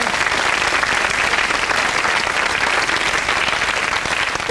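A studio audience at a 1989 UK television game show gives sustained, loud, dense applause that continues evenly throughout without a break.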